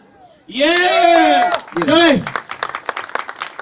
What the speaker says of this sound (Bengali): তো আপনাদের জন্য যদি একটা হাততালি চাই, দেবেন না?